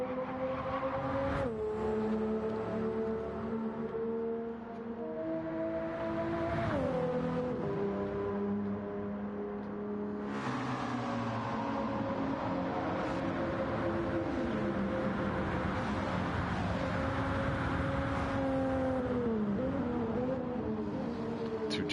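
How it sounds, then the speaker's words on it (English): A Toyota Supra with a JZ engine races in Gran Turismo 7, its engine note rising and falling through gear changes as other race cars pass by, loud and steady throughout with no talk. "JZ engine sounding great in that Supra."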